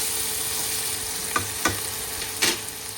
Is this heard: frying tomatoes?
yes